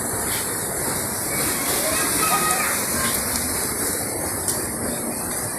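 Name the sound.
waterfall and pool water at Loto waterfall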